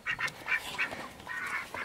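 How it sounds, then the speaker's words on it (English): Young chicks peep nearby in a quick cluster of short, high, shrill calls, several overlapping chirps over about two seconds with no talk. "let's check and see how the chicks are doing"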